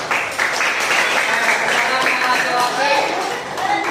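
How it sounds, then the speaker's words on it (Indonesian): Classroom students clapping together, steady group applause with a voice talking over it throughout. "Oke, dulu kasih tepuk tangan dulu"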